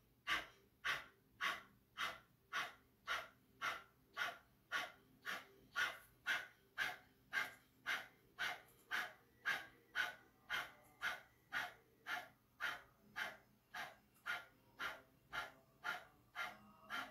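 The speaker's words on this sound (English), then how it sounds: "Deep inhale, exhale halfway, and begin your breath of fire." Breath of fire, the rapid rhythmic breathing exercise of Kundalini meditation, comes as a long even train of sharp nasal exhales, about two per second, close and steady with no talking over it.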